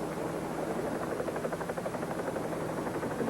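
A helicopter flies close by with a steady, loud rotor chop and engine whine, running continuously with no voices.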